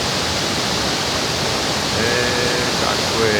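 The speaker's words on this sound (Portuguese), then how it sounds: "A cachoeira aí." A waterfall on the Rio Grande at Santo Antônio do Rio Grande, Minas Gerais, roars as a loud, steady broadband rush. A faint voice sits under it near the end.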